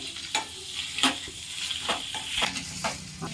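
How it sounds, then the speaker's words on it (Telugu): Paneer frying in a pan until lightly reddish, a steady close sizzle broken by several scraping stirs of the spatula, with no talk. "ఇలా కొంచెం లైట్ రెడ్ కలర్లో వచ్చేటట్టు ఫ్రై చేసుకోవాలి"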